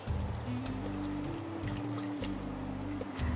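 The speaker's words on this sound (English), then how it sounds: "Because it's kind of dry, I will also add in some water." Water poured into a pan of curry paste with thick tamarind, a steady continuous trickle heard up close with no talk over it.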